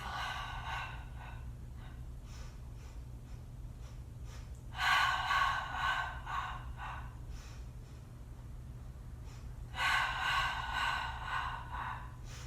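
During a mat Pilates exercise, forceful breaths come in long surges, with two strong bursts standing out from softer, rhythmic inhales and exhales, close and loud against a low background hum.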